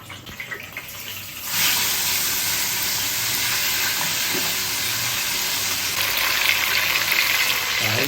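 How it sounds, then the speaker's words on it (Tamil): Ground onion and garlic paste hitting hot tempering oil, a quiet clatter giving way to a sudden loud, steady sizzle that hisses on continuously without talk. "அரைச்ச வெங்காய பூண்டு ஆட் பண்ணி வச்சு இப்போ நம்ம வந்து இதை வந்து வதக்கணும்."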